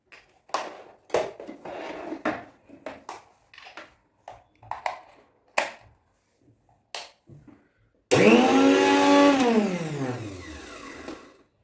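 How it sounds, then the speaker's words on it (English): A reassembled mixer grinder starts up after a series of sharp knocks and handling clicks, then roars loudly for about three seconds, its whine dropping in pitch as the motor winds down. "this is the time to check if this mixer grinder is working as it should work"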